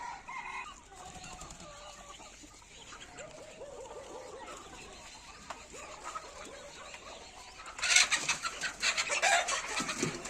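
Pure desi gavran hens and roosters on a farm, with scattered clucks, a crow and chicken calls at moderate distance, a louder flurry of squawking near the end and a dog faintly present.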